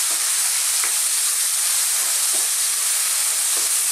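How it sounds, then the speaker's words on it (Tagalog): Tomatoes fry in a pan for Filipino corned beef hash, giving a loud, unbroken sizzling hiss with faint periodic soft knocks from stirring underneath, no voices. "Ang paglalagay ng ating kamatis."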